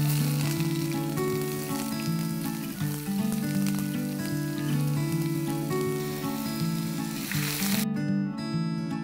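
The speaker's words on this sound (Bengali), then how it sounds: "এর মধ্যে আমি এবার দিয়ে দেব পেঁয়াজ কুচি।" Chopped onion dropped into hot oil over whole garam masala and cumin seeds gives a steady frying sizzle running under loud music for most of the clip.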